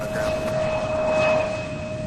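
A Republic Airways airliner arriving from Philadelphia and landing at Louisville airport, a steady jet engine roar with a sustained tonal whine, heard at moderate distance under brief speech.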